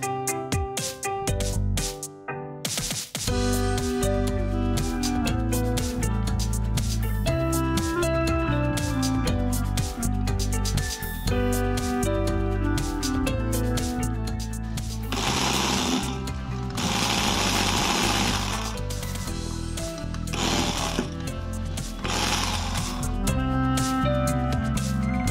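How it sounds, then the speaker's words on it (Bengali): Electric drill with a flip drive kit drilling into wood and driving screws, a loud continuous whirring motor with pitch shifts and short bursts of harsher grinding, heard close up with no talk. "একই টুলসের মাধ্যমে আমি কাঠ ছিদ্র করছি, আবার স্ক্রু কাঠের সাথে আটকে দিচ্ছি।"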